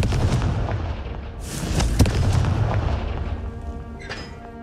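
A Confringo spell in Hogwarts Legacy goes off in a booming blast, with a sharp crack and a rushing burst that fades into rumbling debris. It is loud and close, with lighter crackles following.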